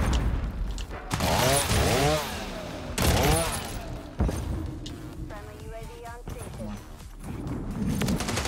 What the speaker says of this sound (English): Chainsaw execution.